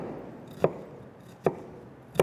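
A knife cuts through a small onion on a cutting board, three crisp, separate chops spaced under a second apart against a quiet kitchen background.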